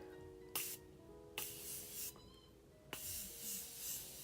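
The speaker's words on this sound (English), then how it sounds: "this is Morphe's Continuous Setting Spray, and you're just gonna spray far from your face." Several short hissing bursts from a Morphe Continuous Setting Spray bottle, each preceded by a click, with quiet pauses between them.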